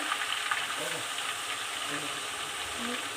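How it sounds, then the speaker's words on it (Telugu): Ginger garlic paste frying in oil for chicken pickle, a continuous bright sizzle and crackle at moderate volume with faint clinks, heard alone without talk. "ఇప్పుడు నేను అల్లం వెల్లిపాయ పేస్ట్ అనేది యాడ్ చేస్తున్నాను"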